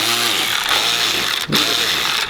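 A Snap-on cordless 1/4 inch extended reach ratchet spins at speed with a continuous high motor whine, close and loud, briefly dipping midway before resuming.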